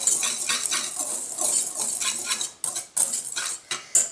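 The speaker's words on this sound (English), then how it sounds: "So I have 3/4 cup of sugar and 3 tablespoons of flour. And we're going to mix that up." Sugar and flour mixed in a bowl, a close run of quick scraping and clinking strokes of a utensil against the bowl, brief pauses between bursts, with no voices.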